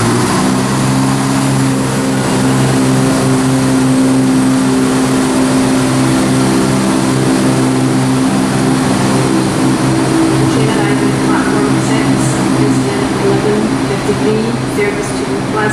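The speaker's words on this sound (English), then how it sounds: "departing now is the 11:44 ScotRail service from Aberdeen to Glasgow Queen Street only" A ScotRail diesel train, a class 158 unit, pulls out of Stirling station with a loud, steady engine drone carrying layered tones for the whole stretch, close by and continuous.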